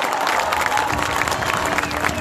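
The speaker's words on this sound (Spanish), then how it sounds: "Tommy Rey, un aplauso." A festival crowd at a summer-closing celebration in Chillán Viejo applauds and cheers for Tommy Rey, a dense, steady wash of clapping with scattered shouts.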